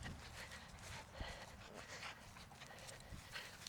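A dog pants rapidly and steadily up close at a hot outdoor agility demo, breathing in a quick rhythm for the whole stretch, with faint background noise and no talk.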